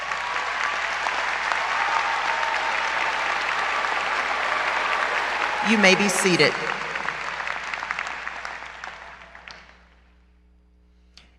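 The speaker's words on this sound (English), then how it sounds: "Give them all a big round of applause." Graduation audience applause at a 2021 high school ceremony, broad sustained clapping from a large crowd that gradually dies away, with a voice speaking briefly over it near the end.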